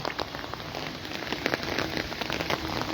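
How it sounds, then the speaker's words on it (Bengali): Heavy rain pours down in Comilla under a dark sky, a dense, close, continuous patter of drops striking surfaces with no voices. "দেখো প্রচুর বৃষ্টি পাচ্ছে প্রিয় বন্ধুরা"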